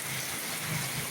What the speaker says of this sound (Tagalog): Gusto ko ulan. Ano dito? Ulan o.